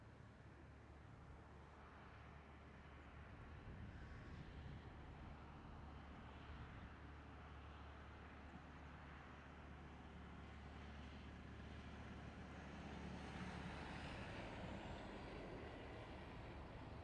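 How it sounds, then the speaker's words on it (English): An Air Astana Airbus A321 in Star Alliance livery takes off at Amsterdam Schiphol as a steady, distant jet roar that swells slightly over about seventeen seconds, faint and continuous with no voices. "we do have Air Astana A321 and we do have a Star Alliance livery going for the takeoff in just a couple of moments"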